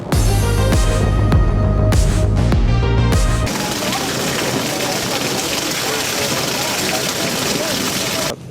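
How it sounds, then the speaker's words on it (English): Heavy rain from a sudden storm, a dense hiss of drops over a low rumble that turns to steady, even pouring partway through, with a voice speaking briefly over it. "So this storm came out of nowhere."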